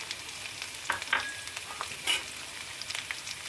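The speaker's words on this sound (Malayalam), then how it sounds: "നമുക്കിതൊന്ന് വാടുന്ന വരെ ഇളക്കി കൊടുക്കാം" Chopped garlic, ginger, green chilli and onion are stir-fried in a pan with a soft, steady sizzle and light spatula scrapes and taps. The sound stays fairly quiet and no one talks.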